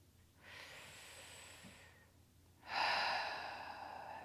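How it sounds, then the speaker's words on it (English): Two slow, close breaths during a calm morning embodiment practice: a long soft exhale, a pause, then a louder, fuller breath, with no talk. "Breathing in and out."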